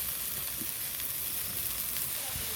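Carrot, capsicum and cabbage fry in a hot pan with a steady, close broadband sizzle that runs unbroken throughout, with no voices over it.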